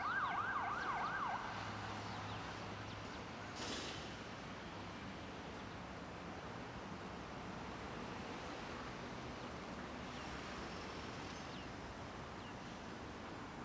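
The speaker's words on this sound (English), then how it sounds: "Sirens, construction, dogs," Emergency sirens sound faintly through the streets of Lima, Peru, wavering at the start of the clip and then fading into a steady distant city hum with no talk.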